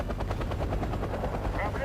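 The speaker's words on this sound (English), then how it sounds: "Mi-24 is now opening up on some M1 Abrams coming through the woods at me" An Mi-24 helicopter in the war game Wargame: Airland Battle opens fire, its rotor thrum mixed with rapid rhythmic gunfire bursts, steady and fairly quiet throughout.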